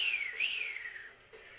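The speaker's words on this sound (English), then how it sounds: "Yes, I was about to whistle." A person whistles a single wavering tune close by, one continuous line sliding down, briefly rising, then tapering off, with no talk.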